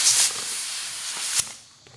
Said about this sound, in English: Since I'm in the garage, I'm going to just use the air compressor.